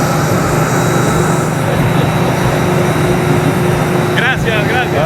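A national carrier airliner at Queen Beatrix International Airport, heard up close as a loud, steady engine roar running through the whole stretch, with brief voices chattering near the end.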